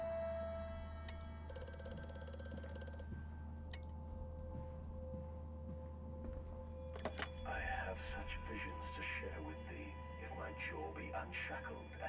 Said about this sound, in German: Ah, Telefon.